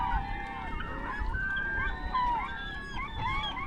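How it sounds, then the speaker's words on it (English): Seagulls call repeatedly at a riverside in Alaska during sockeye salmon dip netting, with overlapping squealing, honking cries that rise and fall, fairly close and loud over a low rumble of wind and water. "Fascinated with the seagulls."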